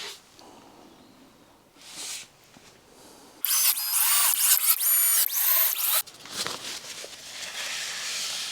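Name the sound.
drill driving pocket screws into MDF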